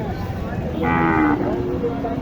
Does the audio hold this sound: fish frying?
no